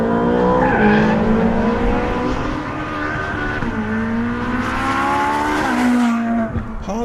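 A Ferrari 458 Speciale on a test track slides with its back end out, tires squealing in long wavering tones over the engine's steady howl, close and loud with a surge and fade near the end.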